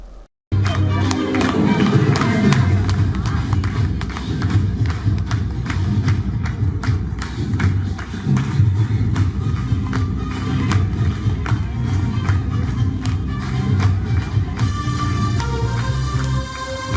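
An audience claps steadily along with a keyboard performance at the inaugural stage of a revenue district school arts festival in Kayamkulam, the dense crowd noise continuing throughout with rhythmic claps and bright notes near the end.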